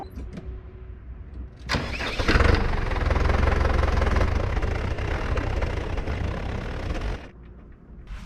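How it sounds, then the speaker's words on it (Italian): A Same Frutteto 85 tractor engine cranks and catches, then runs loudly and steadily for several seconds before cutting out, a heavy rumbling idle close by. "Adesso non perdiamo altro tempo e giriamo il trattore."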